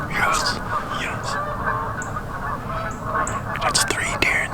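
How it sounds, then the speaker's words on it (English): Agitated geese honk repeatedly on a Georgia family farm during a deer hunt, loud overlapping calls in irregular bursts over a low rumble, with some voices in the background. "We pissed them geese off. They haven't shut up."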